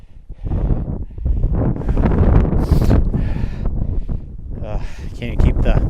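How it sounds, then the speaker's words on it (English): Strong wind buffets the microphone on the cold summit of Mount Hight, a loud, continuous roaring gust noise that swells and dips throughout, with a person's voice faintly mixed in. "Can't keep the camera steady, it's so windy."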